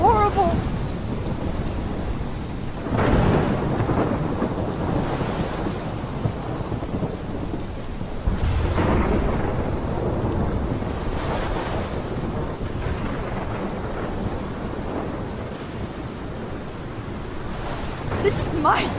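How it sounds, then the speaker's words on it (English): A thunderstorm in the video game Life is Strange, with heavy rain hissing steadily and several deep rolling thunder rumbles swelling and fading throughout. "This is my storm."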